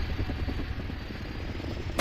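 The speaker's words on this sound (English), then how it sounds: "these Black Hawk helicopter rides that take you between the levels" A Black Hawk helicopter ride in a video game, carrying players between levels, with a loud, continuous rotor thump and engine drone throughout.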